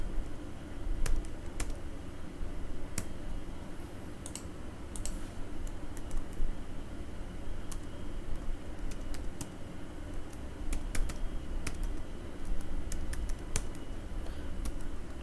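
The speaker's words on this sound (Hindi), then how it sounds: "यहाँ पे सर्च में टाइप करेंगे हम" Someone types on a computer keyboard with quick, irregular key clicks and taps. The clicks are close and moderately loud, come in short bursts with brief pauses, and play over a faint room hum with no talking.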